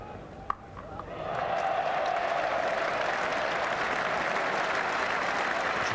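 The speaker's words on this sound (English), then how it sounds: "it's produced applause from Botham as well as from this very, very big crowd here at Lord's" Big crowd at Lord's applauding a fine cricket stroke during a 1984 England v West Indies Test match, a steady broad wash of clapping that swells after a second and holds, with no talk over it.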